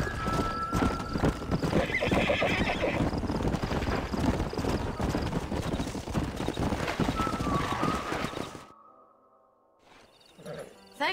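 Horses in the video game Red Dead Redemption clip-clop along with steady hoofbeats and give loud neighs and whinnies. Near the end the sound drops to near silence before a brief faint noise.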